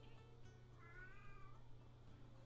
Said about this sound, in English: He's meowing like he's got a tummy ache.